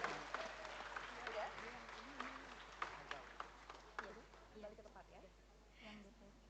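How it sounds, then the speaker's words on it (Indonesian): Applause from an audience at a swearing-in and inauguration ceremony for a village organization, scattered clapping mixed with crowd noise and an announcer's voice, fading somewhat toward the end. "Boleh kita berikan semangat dan tepuk tangan yang paling meriah."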